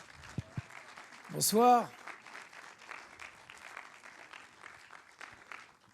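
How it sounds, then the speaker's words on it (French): Audience applause at a cinema talk evening runs as a soft, steady patter through most of the stretch, after a brief spoken greeting and a louder burst near the start. "Vous pouvez les applaudir bien fort."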